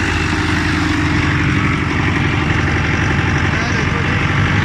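A 2021 New Holland Dabung 85 tractor runs a straw chopper, giving a loud, steady diesel drone with a dense rumbling throb that never changes, while a voice talks over it.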